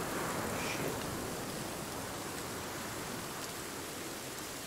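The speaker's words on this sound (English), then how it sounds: "Is that rain?" Steady rain in the Sons of the Forest video game, a soft, even hiss of falling drops that holds unchanged throughout, quiet and with no voices.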